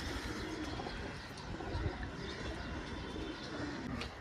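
Faint, intermittent cooing from pigeons at a pigeon seller's shop, set against a steady low background rumble.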